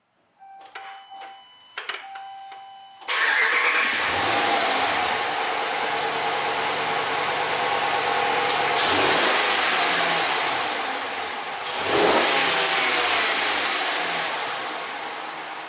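A 2013 Ram 1500 with a Flowmaster Super 40 exhaust and K&N intake gives a few clicks, then catches into a loud, close idle rumble, swelling with two sharp revs before settling again; no one speaks.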